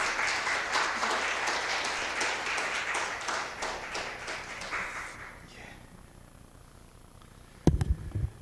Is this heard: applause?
yes